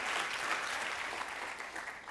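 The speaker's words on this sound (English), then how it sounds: "And, applause." Steady, dense audience applause fills the whole stretch at an even, moderately loud level, with no voices rising above it.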